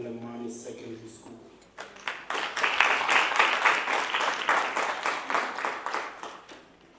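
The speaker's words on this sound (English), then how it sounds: "may you now please give a round of applause to the third speaker from the third school" Audience applause for a student debate speaker from Polokwane Secondary School at a district road safety debate competition, a sustained round of clapping that swells after a brief quieter start, with talk heard at the very beginning.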